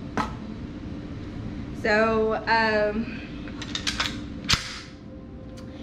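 Mini 30 rifle being cleared: a metallic rattle of the action being worked, with a few sharp clicks and a clack, under a brief spoken word.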